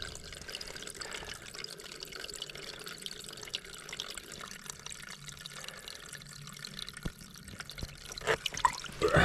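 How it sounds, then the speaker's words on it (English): Drinking water is scooped from a peaty moorland stream on a wild camp, giving soft trickling and dripping splashes that turn into louder, choppier sloshing near the end. "Get a wee bit of water."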